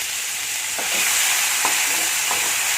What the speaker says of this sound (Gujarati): એકદમ સરસ મિક્સ કરી દઈશું આને ડુંગળીને.